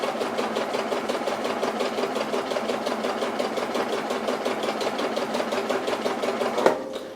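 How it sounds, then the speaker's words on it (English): A Juki HZL-DX7 sewing machine stitches steadily and fairly loud, its needle pounding in a fast even rhythm for about seven seconds, with a brief clack near the end as it stops. "I can just leave it like that and then start sewing."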